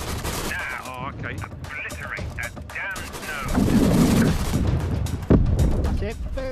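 Rapid gunfire from a multiplayer VR zombie shooter game on Quest 3 crackles through the stretch, thickening into a louder burst of shots and booms midway, mixed with excited players talking and cheering throughout.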